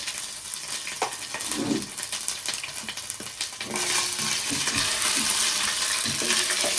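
Ginger garlic paste fries in a pan over low heat and is stirred, giving a close, steady sizzle with scraping stirs. The sizzle grows louder and denser partway through, and no one speaks.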